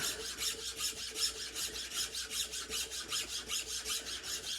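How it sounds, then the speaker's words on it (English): Hand file strokes shape grooves into a longbow tip, a quiet rhythmic rasp repeating at an even, steady pace of about three strokes per second, close and alone. "I'll just do this manually. With a newer file, it ain't that bad."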